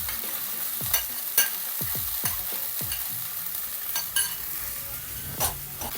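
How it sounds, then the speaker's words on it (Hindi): A spoon stirs sauce into onions and chicken frying in a pan for General Tso's chicken. Soft sizzling runs throughout, with a string of sharp utensil scrapes and taps against the pan, close and without talking. "जो हमने यहाँ पे अपना बड़ा ज़बरदस्त सा सॉस रेडी किया हुआ था वो शामिल कर देंगे बीच में।"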